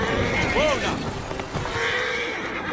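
A horse whinnies briefly amid game noise in Assassin's Creed Syndicate, a short rising-and-falling neigh near the start over a steady ambient bed, with a voice speaking.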